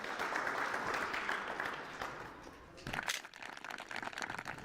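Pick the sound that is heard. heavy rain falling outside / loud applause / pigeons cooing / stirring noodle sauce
loud applause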